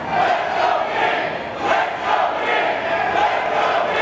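Wrestling crowd at a CCW Women's Title match in Hialeah, Florida, cheering steadily for the champion KiLynn King, a dense, continuous roar of many voices with small swells, loud and sustained throughout.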